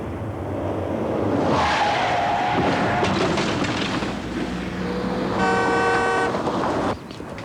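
A car arrives with its engine rumbling and rising, then its horn honks in a sustained, bright toot before the sound cuts off abruptly.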